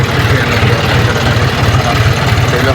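A farm tractor engine runs with a steady, low, throbbing rumble, loud and close, its rhythmic pulsing continuous throughout with no talk.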